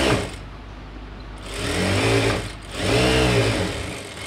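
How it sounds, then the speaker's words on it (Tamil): Sewing machine running a double stitch on a chudidhar top, two bursts of motor hum of about a second each, with short pauses between, close and fairly loud. "இப்போ இதை நான் டபுள் ஸ்டிச் போட்டுக்கிறேன்"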